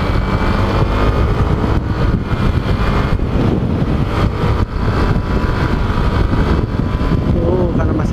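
A Honda ADV scooter pulls away on an empty morning road near the foot of Mount Guntur in Garut, its engine droning steadily and close amid broadband wind rush.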